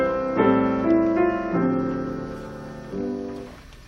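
Solo piano plays the chord pattern of a song, a few slow sustained chords struck one after another, clear and close with no talking.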